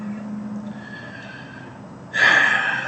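A white horse lets out a loud, close whinny in the last second, rising sharply out of a quieter murmur of background sound.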